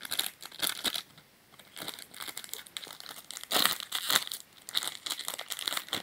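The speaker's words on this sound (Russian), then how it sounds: "Так, откроем следующий пакетик." Small plastic blind packet being torn open and handled, close, quiet crinkling and tearing in irregular bursts with brief pauses between, no voices.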